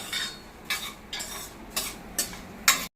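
Rice for kheer being dry-roasted in a pan, stirred with a spoon in five or six distinct scraping strokes spaced about half a second apart, close and moderately loud, with no talking.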